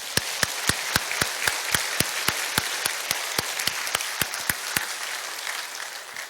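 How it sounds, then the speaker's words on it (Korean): A church congregation claps in steady unison, sharp evenly spaced beats about three per second for several seconds, fading slightly at the end, over a soft room hum. "박수로 영광을 돌리겠습니다."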